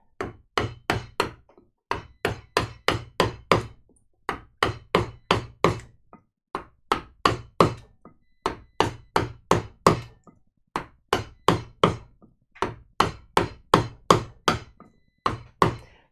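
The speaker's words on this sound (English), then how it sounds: "using just a really big gouge and just plowing away at it" A mallet drives a large gouge through wood while carving a figure, sharp knocking strikes in quick bursts of four to six blows separated by short pauses, loud and close with no talking.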